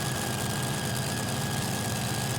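Pulling tractor engine roaring at full power during the European Tractor Pulling Championship in Brande, Denmark, a steady dense loud drone with a sustained high whine throughout, no pauses.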